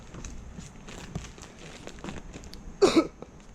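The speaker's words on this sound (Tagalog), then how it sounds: "Grabe, kaya inuubo ako sa lamig ah" A single short cough burst from the cold, close and fairly loud, outdoors at night in an industrial area, over a quiet background with faint rustling.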